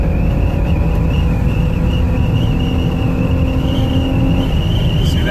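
Engine of a 2002 Honda Odyssey under acceleration as the gas pedal is pressed, a steady loud drone with a sustained whine holding close throughout, rising slightly near the end.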